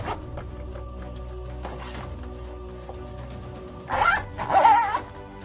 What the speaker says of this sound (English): there you go, zips up